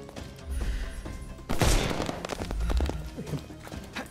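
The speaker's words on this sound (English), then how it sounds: "Firecrackers on his back." Firecrackers go off in the Sherlock Holmes: Chapter One video game, a loud burst of crackling bangs starting midway through the clip after a quieter stretch of game sound, with sharp pops continuing to the end.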